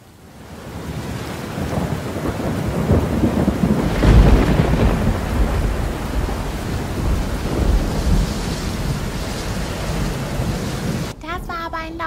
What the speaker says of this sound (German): Das war kein Blitz, das war ein Donner.